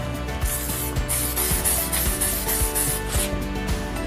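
Aerosol spray paint hisses in steady bursts through a mylar stencil, laying leaf shapes onto a firearm, with faint clicks and rubbing between passes; close and fairly even in level.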